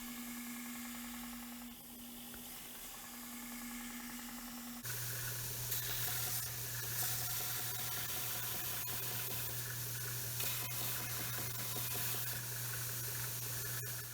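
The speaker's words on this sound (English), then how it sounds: "Now I'm going to start rounding it off on the belt sander." A belt sander rounds off a mahogany banquet table part. A quiet hiss and hum suddenly give way to a louder, steady abrasive roar with a low motor drone, and scraping rasps run through it.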